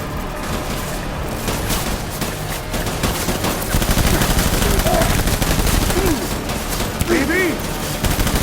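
Dense, continuous rapid gunfire in a Death Stranding boss battle, loud and unbroken like a sustained fusillade, with shouted voices breaking through near the end.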